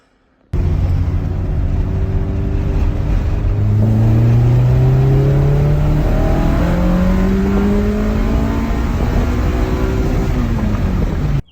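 A K-swapped Mini Cooper on nitrous driving hard, its engine loud and close, rising through several revving gear pulls with rising and falling pitch sweeps for about eleven seconds before cutting off.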